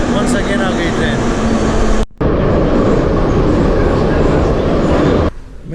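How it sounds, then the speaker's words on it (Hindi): A metro train in the Tashkent subway rumbles loudly and steadily in a station, a dense roaring hum with a brief break partway through, close and continuous before it quiets at the end. "वंस अगेन आ गई ट्रेन।"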